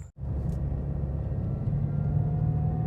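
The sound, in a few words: Subaru WRX car driving down the street at night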